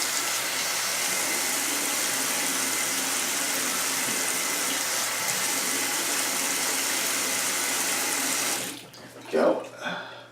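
Running water from a tap fills a shaving tub and is splashed onto a face before a shave, a steady broadband rush that stops abruptly near the end, leaving brief handling sounds.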